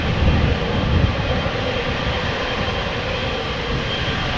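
Qatar Cargo Boeing 777 at Amsterdam Schiphol Airport, its engines a loud, steady broadband roar that swells slightly early on and holds constant throughout, with no talking.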